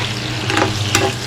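Potatoes frying in a pan while being stirred, a steady close sizzle with two louder scraping stirs through a short stretch.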